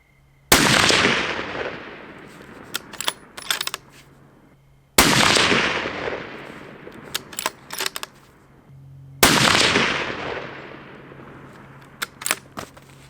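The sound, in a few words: Browning X-Bolt deer rifle shooting group, Sierra GameKing ammunition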